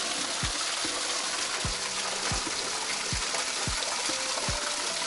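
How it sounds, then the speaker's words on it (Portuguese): Water trickling at the Queda do Vigário waterfall in Alte, Loulé, reduced to a small flow by late-summer drought; a steady close wash of falling water runs throughout, with a few soft low knocks and no voices. "E esta é a cascata do vigário"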